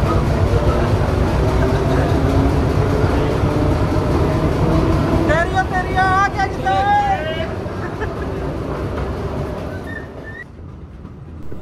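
A train on the Bhakra railway between Nangal and Bhakra Dam passes through a tunnel, making a loud, steady rumble with metallic wheel squeals midway. The noise fades toward the end, and muffled voices murmur beneath it.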